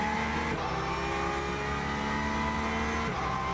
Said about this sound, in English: Through come the hypers. On my headphones, the hypercars sounded fantastic as they came past.